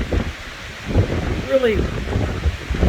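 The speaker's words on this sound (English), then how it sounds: "you can hear the wind." Strong gusts of wind on a hot 89-degree day by a lake buffet the microphone as a low, rumbling roar, swelling and easing beneath a person speaking.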